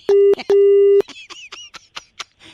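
A telephone call ends on a disconnect tone: two flat electronic beeps, the second longer, followed by a quick run of faint chirping blips on the line.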